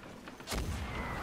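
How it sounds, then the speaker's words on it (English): A single deep boom of cannon salute fire in Sea of Thieves bursts out, followed by a rumbling roar that lingers briefly. "Cannon salute."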